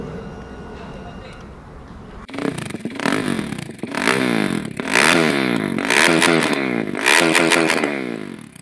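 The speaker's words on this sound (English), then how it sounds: "the aftermarket exhaust is loud" A KTM Duke 390 motorcycle with a loud aftermarket exhaust and a K&N performance air filter revs repeatedly in sharp bursts, close and loud, with a voice talking underneath.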